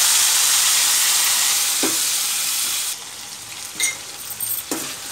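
Tomatoes fry in a pan with ginger and turmeric, giving a steady broad sizzle and hiss that softens after a few seconds, with a couple of brief stirring scrapes and no voices.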